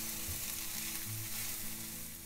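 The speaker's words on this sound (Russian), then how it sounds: "Лук пассерую, помешивая до прозрачного состояния." Onion frying in butter in a pan while being stirred, giving a steady, close hiss of sizzling with faint scraping from the stirring, with no voices.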